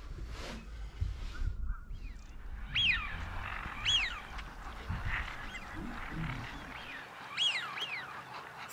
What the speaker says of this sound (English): I can hear a lot of noise of Canada geese in the background, so plenty of them around